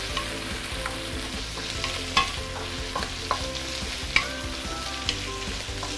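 Prawn shells frying over high heat for a broth, with a steady loud sizzle and intermittent sharp scrapes and clinks of stirring, with no talking.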